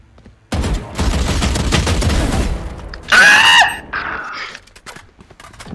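Gunfire in the Valorant video game: a sustained burst of rapid shots, then a loud squealing, high-pitched effect and scattered fainter sounds, all close and loud.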